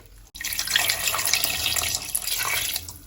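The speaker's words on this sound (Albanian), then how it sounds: "Do të shtojmë rreth 1 litër e gjysmë ujë." About a litre and a half of water pours into a pressure cooker holding meat for soup, a steady close splashing rush that starts after a short quiet moment and keeps going.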